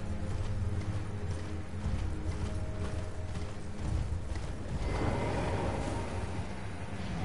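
Hooves clip-clop at a steady pace in Elden Ring over a rumbling background, with creaking mechanical sounds and a brief horse whinny; no one speaks.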